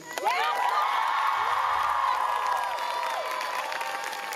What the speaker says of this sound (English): So can we please give a big round of applause to him?